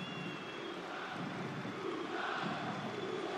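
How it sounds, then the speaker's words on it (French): A football crowd at Lens applauds a player during a Coupe de France match against Épinal: a broad, steady wash of distant stadium clapping and cheering with no break. "qui est applaudi aussi par le public"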